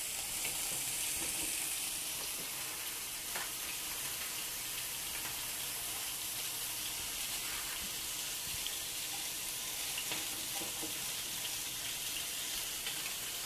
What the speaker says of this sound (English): let's get those veggies in the pan. We're going to start with the cauliflower and the green beans